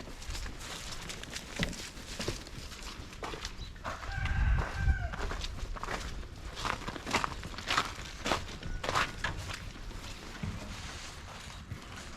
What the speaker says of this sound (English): Watch the chickens gonna go crazy.